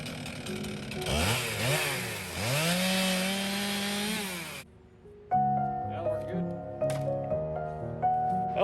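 A chainsaw trims a fallen tree branch, revving and bogging in rising and falling pitch, loud and close, before it cuts out and a voice starts talking.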